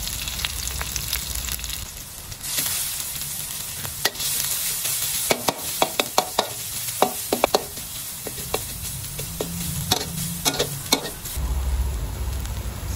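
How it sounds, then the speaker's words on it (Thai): Garlic stir-fried in a little rice bran oil in a pan, with a steady loud sizzle broken by many sharp scraping and knocking strokes of the spatula at an irregular rhythm, heard up close with no talking. "เอากระเทียมลงไปผัดเลยครับ กระเทียมลงไปผัดให้หอมเลย"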